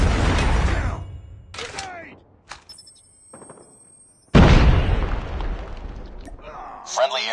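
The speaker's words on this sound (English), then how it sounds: "Friendly Predator missile inbound." A Predator missile strike in a video game lands as a loud, broad blast with a long rumbling tail, preceded by quieter game noise and scattered pops.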